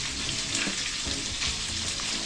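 Garlic sizzles steadily in hot oil in a home kitchen while Filipino fried tambakol in coconut milk is being prepared, a loud continuous crackle with a few soft stirring scrapes and no talk.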